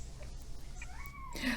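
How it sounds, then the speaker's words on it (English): A cat meows once, faint and drawn out with a rising-then-falling pitch, in a quiet indoor room under a steady low background hum, with no talking. "I don't know if you can hear my cat meowing"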